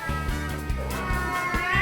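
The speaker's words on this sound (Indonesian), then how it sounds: "Terpaksa kita ulangin gara-gara dua kucing garong berantem." Low, drawn-out yowling of two cats fighting, caterwauling at each other, continuous and fairly close.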